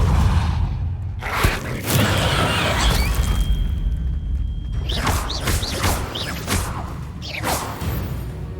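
A Depulso spell in the video game Hogwarts Legacy lands with a deep boom and a whoosh, followed by crashing, shattering debris and scattered impacts. A sustained rumble carries through the whole scene.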